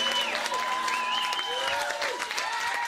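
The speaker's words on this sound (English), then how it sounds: "So please, let's have a round of applause for Jeff." A concert audience applauds steadily as a dense, even patter of clapping. Sustained musical tones ring over it, and it holds at moderate volume throughout.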